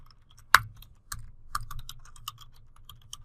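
Computer keyboard typing, a series of light irregular key clicks with one sharper keystroke early on, close and fairly quiet, no voices.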